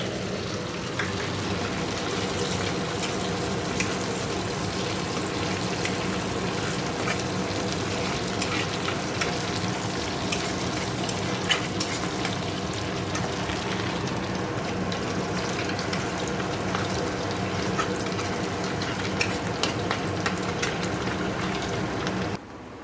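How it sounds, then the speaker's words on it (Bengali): Garlic and green chilli frying in hot oil in a kadai alongside already-fried prawns, a steady dense sizzle with occasional scraping stirs, close and continuous with no talking. "তো কড়াইতে এবার এই যে রসুন লঙ্কা দিয়ে দেবো।"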